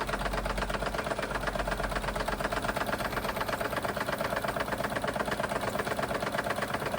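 A restored Wilesco D32 toy steam engine runs for the first time with a rapid, even mechanical chatter and clatter, steady and fairly quiet throughout.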